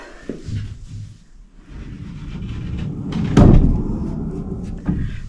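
A barn-style sliding door on a newly finished bathroom rolls along its track and closes with a solid thud midway, followed by a lighter knock near the end.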